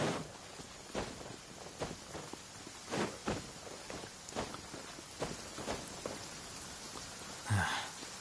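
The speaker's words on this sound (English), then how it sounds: "Going out on a rainy day is the worst." Steady rain in a video game on PS5, a broadband hiss with faint recurring taps that resemble footsteps, ending in a brief louder splash near the close.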